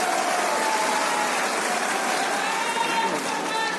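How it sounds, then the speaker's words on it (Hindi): Large outdoor crowd clapping steadily at a chief minister's public rally, dense continuous applause with voices mixed in throughout. "अब इस पर तो जरा जोर से ताली बजा"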